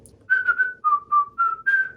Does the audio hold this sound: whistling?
yes